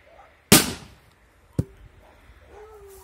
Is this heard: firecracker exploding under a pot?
yes